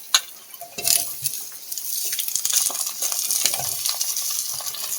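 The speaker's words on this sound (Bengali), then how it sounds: "পেঁয়াজটা ভাজা হয়ে গেছে, এবারে আলু বেগুনগুলো দিয়ে ভালো করে ভেজে নেব।" Potatoes and eggplant tumble into a pan of fried onion with a clatter, then settle into a steady, close sizzle and crackle of frying oil, with occasional scrapes and stirring knocks.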